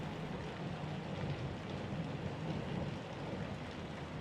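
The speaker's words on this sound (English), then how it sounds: "The storm raged on." Steady, dense rain pours down through a raging storm, with low rumbling thunder folded into a constant wash of noise that never rises or falls, moderately distant and with no voices.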